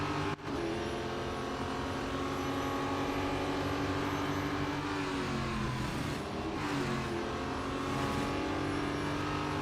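Race cars roar through a lap in Real Racing 3, a continuous loud engine drone with rising and falling revs and a couple of brief passing surges, with no talking.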